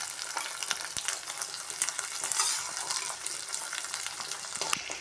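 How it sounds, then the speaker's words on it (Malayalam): Chopped tomatoes and prawns sautéing in a pan for a prawn theeyal, a dense crackling sizzle with frequent spoon scrapes, steady throughout and close up. "അരിഞ്ഞു വെച്ച തക്കാളി അതിൻ്റെ കൂടെ തന്നെ നമ്മൾ എടുത്തു വെച്ചിരിക്കുന്ന ചെമ്മീനും കൂടെ ഇട്ട് കൊടുക്കാം"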